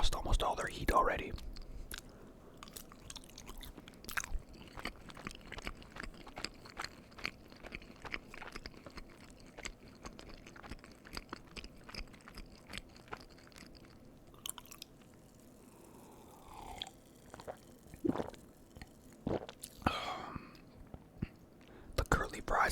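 Crinkle, waffle and curly fries topped with cheese, eaten close to the mic in a steady run of soft crunchy bites and wet chewing, with whispered talk between mouthfuls.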